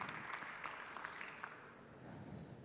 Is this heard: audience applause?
yes